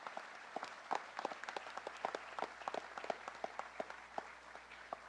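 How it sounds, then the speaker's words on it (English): Sparse, quiet applause from a school audience at a National Honor Society induction ceremony, with individual claps distinct and somewhat distant against a low hum. "Please join me in applauding all of our new National Honor Society members."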